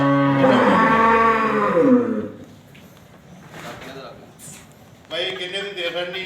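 A dairy cow at a cattle sale lets out one long, loud, close moo that fades after about two seconds, followed by quieter background noise and then people talking.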